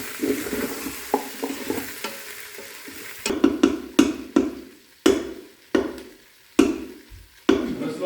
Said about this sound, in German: Habt ihr das Brutzeln gehört?